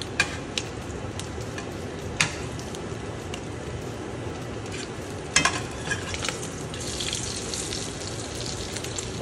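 Seafood cakes frying in a pan on a stove make a steady close sizzle, with scattered clicks and scrapes and a brief louder clatter midway, no speech.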